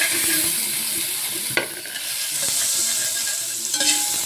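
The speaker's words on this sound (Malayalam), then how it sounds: "ഇത് വെളുത്തുള്ളി ഇട്ട് സവോള ഇടാം." Garlic paste and onion sizzle loudly in a hot pan at the start of a chicken gravy, a steady close frying hiss broken by a few scrapes and clinks of stirring.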